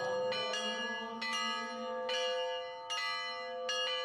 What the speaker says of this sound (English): Now the bells are ringing, and soon the ceremony shall exit the chapel.